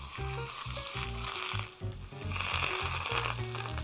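Chicken pieces sizzle and crackle as they hit very hot oil alongside scallion and ginger, a steady close frying hiss with bursts of popping throughout.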